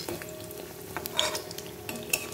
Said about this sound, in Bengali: বেগুন ভাজছি না সোনা, বেগুনি ভাজছি।